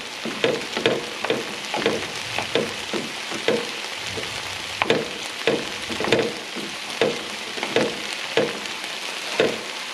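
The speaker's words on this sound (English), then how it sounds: "break this big clump of rice apart into its smaller pieces. And keep the temperature on a little bit of high heat" Cold rice broken apart and fried in a hot pan over high heat, a soft sizzle under rhythmic scraping and tapping strokes of a utensil repeating roughly twice a second, close and without talk.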